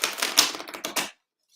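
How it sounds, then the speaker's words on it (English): A deck of Lenormand cards gets a quick, close riffle shuffle, a short burst of dense papery clicks that ends in silence. "I will give it a proper shuffle"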